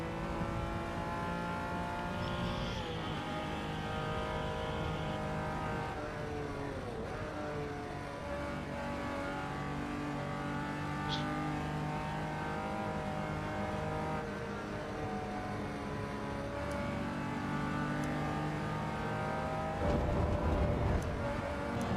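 Datsun 240Z engine roaring in the racing game Assetto Corsa EVO, a steady droning motor note held throughout with shifting pitch, loud and continuous, a brief surge near the end, no talking.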